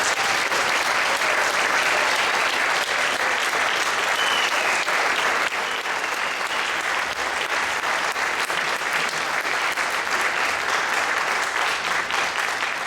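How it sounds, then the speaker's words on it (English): Audience at a school jazz evening clapping steadily for nearly thirteen seconds, a dense, even wash of applause from a full crowd, slightly softening midway, with no talk over it. "So let's give Joe a big hand too"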